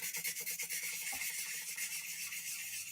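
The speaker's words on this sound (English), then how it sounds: "It's a little bit more sanding here" Steady back-and-forth rasping of sandpaper on a small 3D-printed zombie conquistador model part, rhythmic strokes, close and fairly quiet, no talking.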